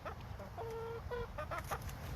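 Backyard chickens in a Texas urban homestead garden cluck in short, close bursts, a hen's calls stepping up and down in pitch over a steady outdoor background.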